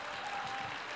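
Brief, faint applause from an audience at an Italian citizenship referendum gathering welcomes the committee members, a soft steady patter lasting about a second.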